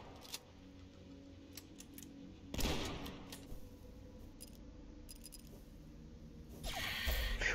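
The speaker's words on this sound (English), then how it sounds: "Take the barrel, put it here, and shoot it." Gunfire strikes an explosive barrel in the retro shooter DUSK, giving a loud burst near the middle, then a second heavy blast near the end, with scattered short clicks and bangs in between over a low ambient hum.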